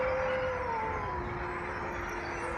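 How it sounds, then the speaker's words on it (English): A pack of wolves howls in a long, sustained chorus, with one clear wavering tone sliding downward over a steady wash of noise and no speech. "seemed to be answered from far and wide by the howling of wolves."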